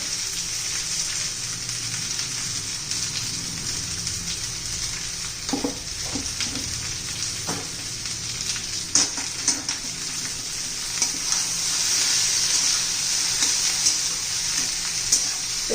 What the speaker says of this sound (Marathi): व्यवस्थित मिक्स करूया आता भेंडी शिजू द्यायची आहे